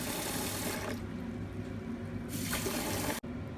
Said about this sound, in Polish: ja nalałam zwykłej wody